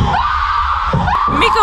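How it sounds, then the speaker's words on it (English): Woman screaming in the horror film Paranormal Activity, one long loud high scream that wavers and breaks off, then rises again with a shout, close and harsh. "She was basically screaming."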